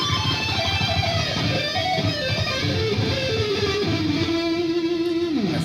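Isolated rhythm guitar track from a song, heavily distorted electric guitar chugging dense palm-muted riffs with sliding notes, loud and continuous with no voices.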